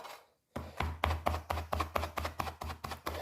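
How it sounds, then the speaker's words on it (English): A knife chops garlic cloves on a board in a quick, even series of about ten crisp, close thuds after a brief pause, loud and clear with no voices. "3 cloves of garlic, finely cut up."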